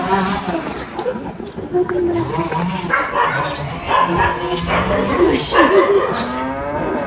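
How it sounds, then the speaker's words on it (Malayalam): Several farm dogs bark and howl at a farm near a Munnar resort, loud and close, mixed with lowing cattle. "അവിടെയുള്ള എല്ലാ പട്ടികളും എന്നെ സെൻസ് ചെയ്ത് അവരവിടെ കിടന്ന് കുരയ്ക്കാൻ തുടങ്ങി"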